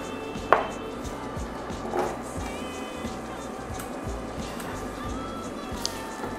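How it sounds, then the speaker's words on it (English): Chopped onion and garlic fry gently in a pan for a red cabbage ragu, a quiet steady sizzle with a couple of soft stirring taps near the start. "we're going to fry this onion and garlic for about 2 to 3 minutes until both the vegetables are quite soft"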